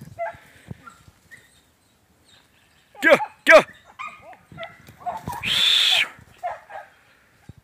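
A small dog lets out a few sharp, high yips and barks in quick succession, with quieter rustling and brief bursts of noise around them.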